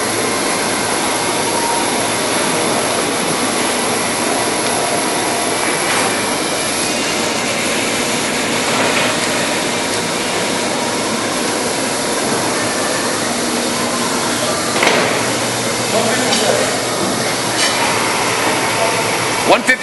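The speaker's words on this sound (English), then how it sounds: "We're going to go ahead and start the machine up at 23 RPMs and run through a full speed range" American 21.5 x 102 inch lathe runs through its speed range, a loud continuous mechanical whirr and drone with gear whine that holds steady throughout, with occasional faint clunks.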